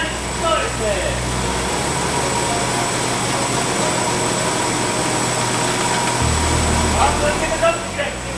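Small engine running shortly after being coaxed to start before its first drive, a steady idling whine and low hum at fairly high level with a shift in tone midway and a few light clicks.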